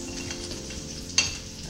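Steak sizzles steadily in a hot pan during a home dinner for two, a dense continuous frying hiss with a brief clink of utensil partway through.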